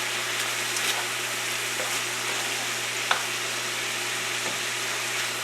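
Sausage meat browning over low heat in a pan, a soft steady sizzle with a low hum beneath and an occasional faint pop or click, close and alone.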